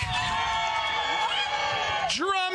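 A studio crowd reacts loudly after a winner is announced in an ice cream truck treat bracket, a dense mix of voices cheering and calling out together, with rising shouts and whoops bursting near the end.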